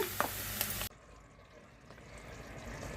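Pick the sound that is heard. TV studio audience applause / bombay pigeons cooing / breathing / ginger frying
ginger frying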